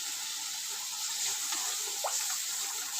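Water poured into a pan while cooking a vegetarian dish, a faint soft splashing trickle that runs steadily for a few seconds.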